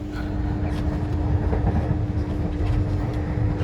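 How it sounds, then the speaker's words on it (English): A UK passenger train on the Plymouth to Paddington line runs steadily, heard from inside the carriage as a loud continuous rumble with a constant tone and faint rhythmic clatter. "I'm on the 9:15 a.m. train from Plymouth to Paddington in London"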